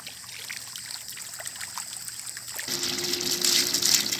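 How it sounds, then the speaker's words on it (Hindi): Irrigation water running into a field, a close trickling and gushing flow that swells louder partway through, no talking. "अभी हम दूसरी जगह पे पानी लगा रहे हैं।"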